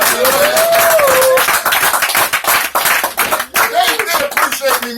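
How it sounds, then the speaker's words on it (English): Loud audience clapping in a church-like gathering, crisp rapid hand claps mixed with voices, shouts and speech throughout, the clapping dense and close, thinning briefly partway through before picking up again. "clap real loud."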